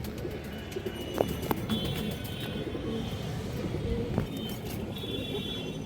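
Pigeons of mixed colours, silver, khaki and brown-necked, coo softly in a crowded setting, their low calls faint beneath steady background noise with a few sharper chirps.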